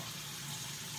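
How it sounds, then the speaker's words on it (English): Water running from a tap into a bowl, a steady close gushing stream through the whole brief moment, with no talking. "now I'm gonna get a bowl of water"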